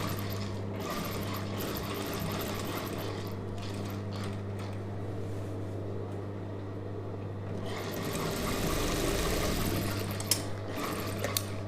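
A sewing machine runs steadily while stitching a star-neck chudidhar, its motor humming with a deep constant tone and mechanical clatter, growing a little louder near the end.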